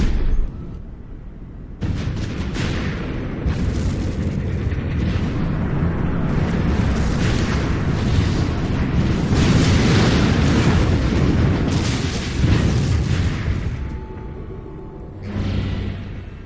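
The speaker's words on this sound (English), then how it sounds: "Those are considered mortars, I think." Mortar fire in the Final Fantasy XIV Online video game: a sustained, loud barrage of booming blasts and rumbling impacts, with a quieter, calmer stretch toward the end.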